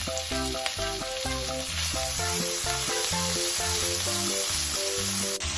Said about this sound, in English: I put the sugar into the meat and I'll stir fry more.